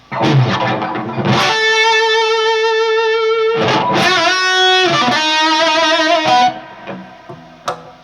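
Loud distorted electric guitar chords from a seven-string Floyd Rose guitar ring out and sustain, with a few separate strums and a softer note trailing off at the end; no talking.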